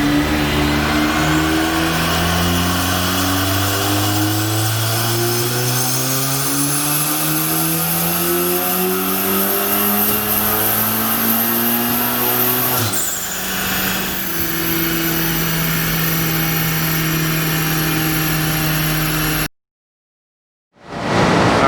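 A Stage 3 Audi S3 with a DBV2 V2 hybrid turbo, making over 600 hp, roars loudly on a dyno. The pitch climbs steadily through repeated gear pulls, with a shift near the middle, then cuts to brief silence near the end.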